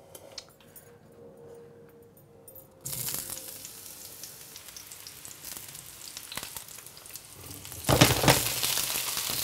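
Vegetables hit hot olive oil in a preheated pan and burst into loud, steady sizzling and crackling, intensifying again near the end as they are stirred.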